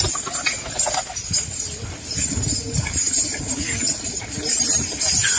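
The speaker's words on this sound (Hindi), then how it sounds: "बहुत अच्छी घोड़ी है ये, नाच काम की बहुत परफेक्ट है ये सुम्बुल।" A dancing mare's hooves clip-clop in a steady stream of quick footfalls over a dense, noisy background, with no voices.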